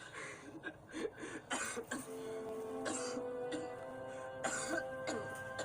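A few rough coughs and throat-clearing bursts close by, spaced out over a steady tonal hum in the background.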